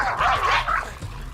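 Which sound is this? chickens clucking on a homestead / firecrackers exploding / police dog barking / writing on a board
police dog barking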